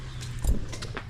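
A short, faint jingle of keys shaken together, a couple of quick metallic rattles over quiet background hum.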